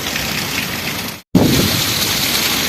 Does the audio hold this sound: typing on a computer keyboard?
no